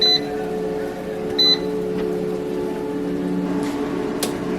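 An air fryer is set to 400 degrees for 15 minutes: a few short electronic beeps, then a steady mechanical hum from the appliance running close by.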